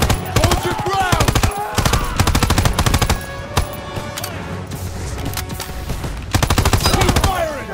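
Sustained machine gun fire in the WWII shooter Call of Duty: World War II, loud rapid bursts with brief pauses between strings of shots, mixed with battle noise.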